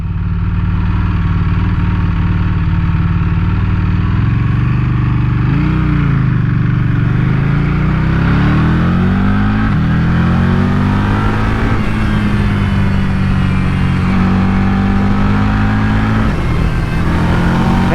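A Buell Hammerhead 1190 motorcycle accelerates hard on the road, its engine note rising and falling through several gear changes, loud and close from the rider's position.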